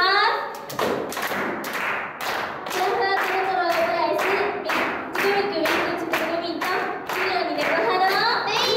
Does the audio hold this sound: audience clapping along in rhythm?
yes